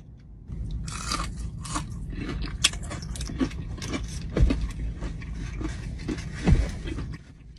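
Loud close-up crunching as a crispy fried snack, popcorn chicken, is bitten and chewed, with repeated sharp crunches and two strong bites standing out over steady mouth noise, no talking.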